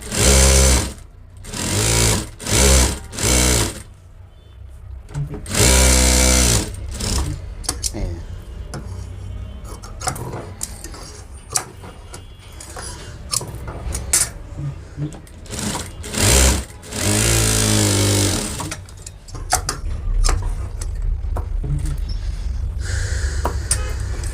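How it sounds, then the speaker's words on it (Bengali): A sewing machine stitches a double blouse sleeve in bursts of fast mechanical whirring, stopping and restarting with short pauses, close and loud, with no talk. "এক সমান করে সেলাই দিয়ে দিতে হবে"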